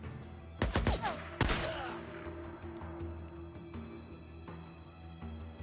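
Two sharp, loud bursts of gunfire ring out close together in the Days Gone video game, followed by a long steady hum and softer scattered impacts.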